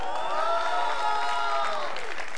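An audience at an EA press conference during E3 breaks into loud, continuous applause and crowd noise. A gliding, fading tone from the stage sound system plays over the clapping.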